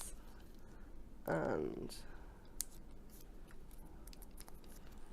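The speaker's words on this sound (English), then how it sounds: "So let's take the tape off these, like this," Adhesive tape peeled off pieces of craft card, one short, close ripping burst lasting about half a second, followed by a few faint clicks.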